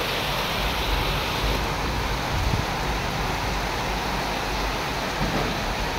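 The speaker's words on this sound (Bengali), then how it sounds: "বাহিরে অনেক বৃষ্টি হইতেছে," Heavy rain pours steadily outside at night, a dense, continuous hiss that stays even and loud throughout with no voices over it.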